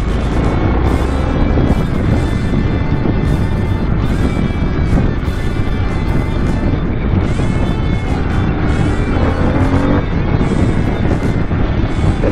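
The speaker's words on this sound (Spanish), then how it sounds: "Deja de dar gas y el motor retiene." A 2022 Harley-Davidson Sportster S motorcycle rides at speed, its engine a constant loud drone buried under heavy rushing wind noise, steady throughout with no pauses.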